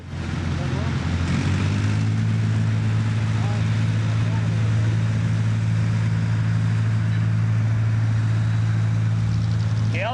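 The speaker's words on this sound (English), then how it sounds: "Let's follow Kelsey to her first pull of the day." A loud, steady tractor engine drones continuously with a deep low hum at a tractor pull, close by and unchanging, over faint background noise.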